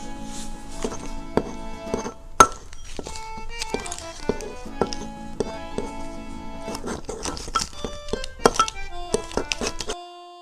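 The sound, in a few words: mixing microwave egg with blue cheese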